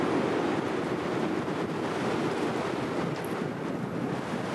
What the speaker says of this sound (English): So they're calling for 25-mile-an-hour winds with gusts up to 55 miles an hour.